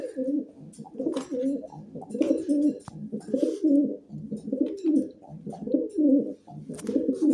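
Male pet pigeon or dove cooing in a repeated, rhythmic pattern of low throaty phrases, close and clear, several coos in a row with faint background noise.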